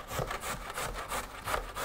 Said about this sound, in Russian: Так, и натираем морковь на терке.